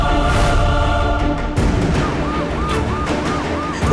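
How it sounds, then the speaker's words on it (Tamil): An ambulance siren wails in a rising and falling pattern, loud and close, over a dense background of traffic and crowd noise. "அதனே ஆம்புலன்ஸ் சவுண்ட்."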